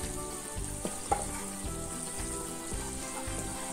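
Coriander powder sizzles in hot oil in a pan for chilli garlic chicken, a steady close frying hiss broken by soft scraping strokes of a spoon.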